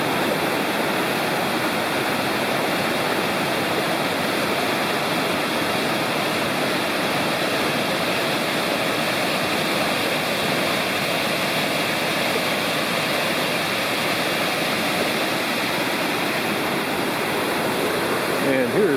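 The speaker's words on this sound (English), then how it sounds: "here's our first view of the falls from the bridge." Waterfall on the Blue Ridge Parkway seen from a bridge above a gorge, a steady dense roar of falling water, loud and continuous throughout with no other sounds standing out.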